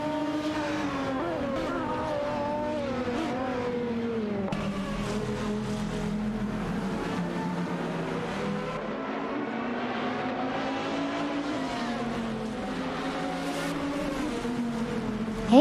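Turbocharged AI race cars in a racing simulation whine past on a raceway, their engines rising and falling in overlapping pitch sweeps as several cars jockey for position, loud and continuous.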